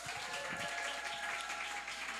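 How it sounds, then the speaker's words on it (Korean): A church congregation applauds as the pastor comes forward, a steady, moderately quiet wash of clapping that fills the short moment without any voices. "우리 목사님 나오실 때 박수로 맞이하겠습니다."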